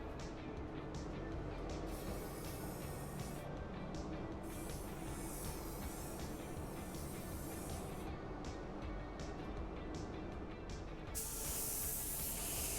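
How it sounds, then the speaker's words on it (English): Spray gun hissing as blender is misted onto the edge of automotive paint sealer in a body shop, a steady continuous spray with brief pauses and a louder burst near the end. "here I take my blender and I'm just spraying it on the edge of my sealer"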